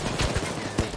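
Rapid gunfire during a Payday 2 heist, a dense close burst of repeated shots with uneven rhythm filling the whole moment, loud and continuous.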